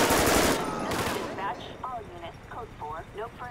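Gunfire in the GTA 5 video game during a police gang-unit patrol, with a dense burst of rapid shots at the start followed by a quieter mix of game sounds.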